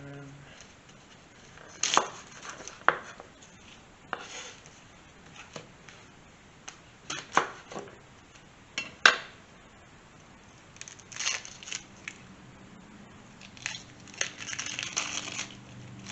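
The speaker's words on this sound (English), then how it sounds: "So we have a red onion here, and we're going to cut that up." A knife cuts up a red onion on a chopping board in scattered sharp taps and crunches, faint and irregular, with a low voice speaking in places.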